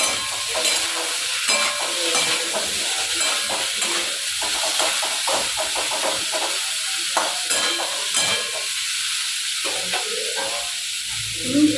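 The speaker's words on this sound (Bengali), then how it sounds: "ততক্ষণে এটা ভাজা হয়ে যাক একটু লাল হোক" Small cut potato pieces fry in a hot pan, a continuous close sizzle broken by frequent scraping, clattering stirs throughout.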